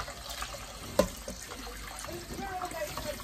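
Water is poured over goat meat being washed for Jamaican curry goat, a soft trickling splash with one louder slosh, faint and close in a quiet kitchen.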